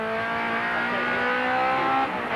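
Race car engine at the 1988 Bathurst 1000, heard from inside as the driver brakes and drops back to second gear, a loud steady harmonic drone with a slight dip near the end and no talking.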